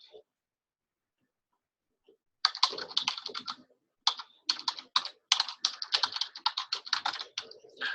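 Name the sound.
typing an email address on a computer keyboard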